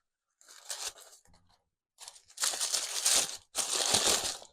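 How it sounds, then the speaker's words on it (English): Baking parchment for a lemon tart pastry case being handled and crumpled, giving dry crinkling and tearing bursts, a short rustle followed by two longer loud crackling stretches close up, with no talking. "And we'll use this baking parchment"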